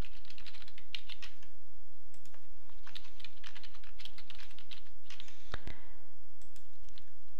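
Someone types a username on a computer keyboard, a close, brisk run of irregular key clicks with short pauses between bursts and no talking.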